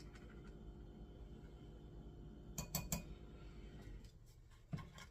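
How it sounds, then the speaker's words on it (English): Utensil scraping and clinking inside a pot while stirring ingredients for pizza roll sauce, quiet and steady with a few sharper knocks against the side near the middle and end. "I'm just stirring everything"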